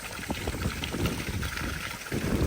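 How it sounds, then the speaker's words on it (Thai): Water gushes from a two-inch pipe driven by a two-inch solar-powered pump filling a pond, a steady, close splashing and trickling flow with no talking. "นี่เป็นท่อสองนิ้วครับปั๊มสองนิ้ว"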